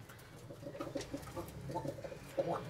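Fantail pigeon cooing softly in a repeated low burbling pattern, fairly quiet against a faint background hum, with no talking.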